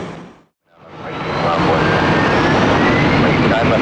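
A Delta airliner takes off from runway 9 left at Atlanta's airport, its jet engine roar rising from a brief lull into a loud, sustained, broadband rumble.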